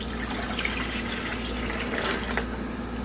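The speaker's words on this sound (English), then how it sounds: "now I'm gonna pour my coconut milk" Coconut milk poured into a flan custard mixture, a steady liquid stream running for about three seconds over a constant low hum in a home kitchen.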